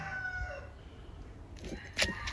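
A rooster crows faintly in the distance against a quiet rural background in a northeastern Thai home kitchen, and a brief chicken or bird call rises near the end.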